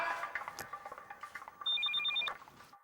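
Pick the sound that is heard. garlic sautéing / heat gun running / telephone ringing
telephone ringing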